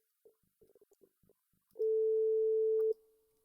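A test waveform plays together with its phase-inverted copy, leaving only a thin, steady hum. The tone holds for about a second and drops off abruptly, preceded by faint scattered clicks and blips.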